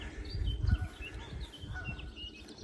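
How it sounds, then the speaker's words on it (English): Faint birds chirp and call in the distance over a low outdoor rumble, scattered short notes across a quiet background. "You can hear the bird song"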